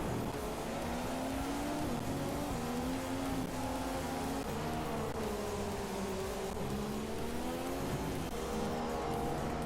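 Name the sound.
Formula 1 cars racing in the video game F1 2015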